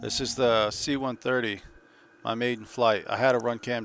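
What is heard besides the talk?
No everyday noise stands out behind the speech.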